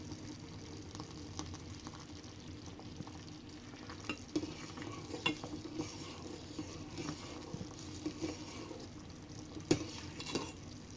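Sabudana payasam, a sago pudding, is stirred in a pot over heat, with a soft continuous scraping and bubbling simmer broken by occasional light clinks of the spoon against the pot.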